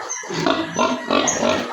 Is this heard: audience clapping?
no